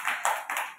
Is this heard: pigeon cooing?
no